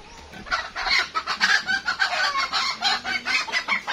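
Many chickens cluck at once on a farm, a dense, busy chorus of overlapping clucks and calls with an occasional rooster note, close and fairly loud throughout.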